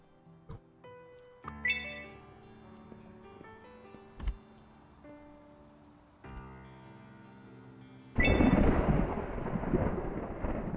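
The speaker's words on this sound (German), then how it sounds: "Da ist vom Gewitter wahrscheinlich." A thunderstorm in the video game Pets Hotel: soft game music tones play, then a loud rumbling crash of thunder breaks in and settles into a sustained rushing storm noise.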